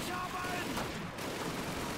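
Gunfire in the Call of Duty 2 video game, a dense rattling fusillade of shots running throughout a short stretch, fairly loud and continuous.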